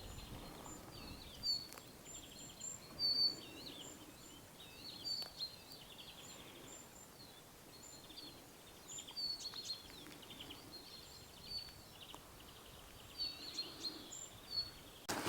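Birds chirp and sing in scattered high twittering phrases across a quiet forest campsite, faint and somewhat distant over a soft background hush.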